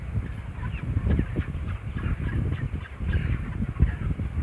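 A crowded flock of broiler chickens in a poultry house makes a dense, continuous chorus of clucks and chirps up close, busy and uneven, with no talking.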